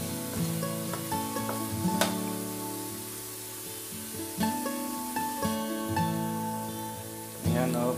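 Coconut milk frying in its own released oil until browning for a traditional Filipino kakanin, a steady sizzle beneath sustained tonal background music, with occasional stirring knocks.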